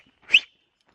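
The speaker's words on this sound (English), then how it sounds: "Like when I want him to come, I whistle." A person gives one short, sharp whistle to call a dog, close and alone in otherwise quiet surroundings.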